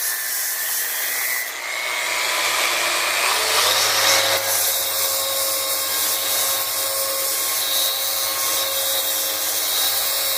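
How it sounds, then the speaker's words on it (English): A power sander whines loudly and continuously, its pitch shifting as it grinds against a metal machine surface, steady and close. "so I'm just going to start sanding this top."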